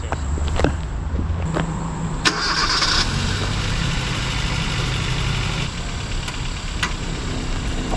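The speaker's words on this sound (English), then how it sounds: "You kind of got to push on the gas a little bit as you start it, and it kind of kicks it into gear." A car engine cranks and catches, then settles into a loud, steady idle close by, with a few sharp clicks and knocks over the running motor and no one talking.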